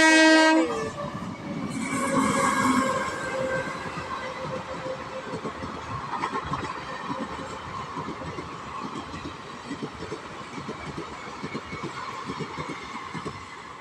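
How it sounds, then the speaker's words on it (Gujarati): A loud train horn blares at the start, then a train rumbles past with steady clattering wheels on the rails, close and continuous until the end. "અહીંયા ટ્રેન આવી ગઈ છે"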